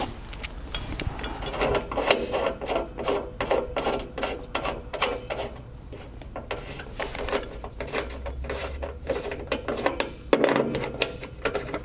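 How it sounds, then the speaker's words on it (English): A nut being tightened onto a welding lead stud on a Lincoln Ranger welder, heard as a run of quick, close ratcheting clicks in uneven bursts, with brief scraping and rubbing of metal between them. "You tighten the nut down."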